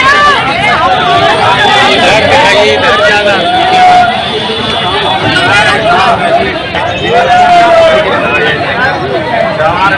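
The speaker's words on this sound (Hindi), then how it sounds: "और भीड़ बहुत ज़्यादा काफ़ी संख्या में है।" A large crowd of villagers gathered at a panchayat nomination site, a dense, continuous babble of many voices talking at once, loud and close throughout without letting up.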